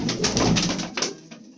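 Pigeons just let loose make a short close burst of sound, a flurry of soft coos and flapping lasting about a second before fading, with no talk.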